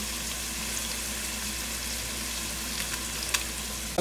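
Crushed cardamom, cloves and curry leaves frying in hot oil for a spicy mutton curry, a steady close sizzle with a few faint clinks of stirring near the end.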